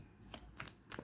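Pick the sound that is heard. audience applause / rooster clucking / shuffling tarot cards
shuffling tarot cards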